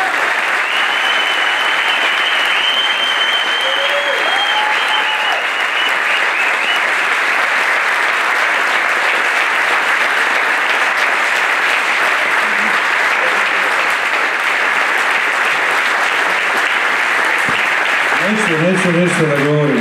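An audience at a film screening in Petrovac na Mlavi gives sustained, loud applause for an actor, a thick wall of clapping that goes on for about twenty seconds before voices break in at the end.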